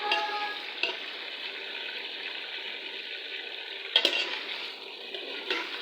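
Chicken frying in very hot oil gives a steady, close sizzle with a few sharp clinks and bumps from stirring, and no one speaks over it.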